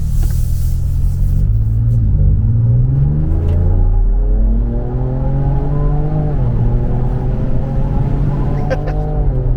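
Ford Ranger Raptor with a V6 gasoline engine accelerating at full throttle from inside the cab, a loud rising engine roar that climbs through the gears, with brief shift dips and a low rumble throughout.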